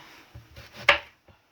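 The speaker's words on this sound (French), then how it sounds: "So this is the turn to slice the leeks." A knife slices leeks on a board in a few quiet, separate cuts, one sharper stroke standing out, in a home kitchen.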